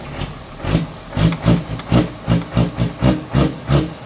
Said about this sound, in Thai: ดี๋ยวให้ดูคันเร่งคันเร่งก็จะไวๆนะครับ